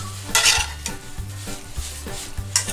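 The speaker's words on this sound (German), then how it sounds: "So, und verrühren hier die ganze Sache, dass sich auch der Käse schön verteilen kann." Beef fillet with onions and cheddar being stirred in a hot pan: repeated utensil scrapes and knocks in a steady rhythm over a low sizzle, close and fairly loud.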